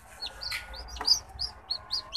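Newly hatched chicks peep from an egg incubator in a string of high, thin chirps that come in short, uneven bursts. The calls are close but fairly soft over a faint low hum.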